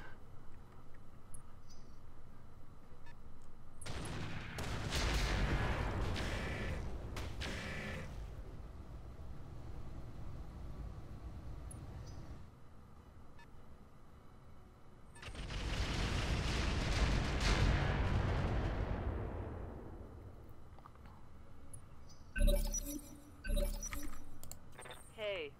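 Weapons fire in the mech game Roguetech in a few dense, loud bursts of rumbling impacts and volleys separated by quieter stretches, with someone speaking over the action.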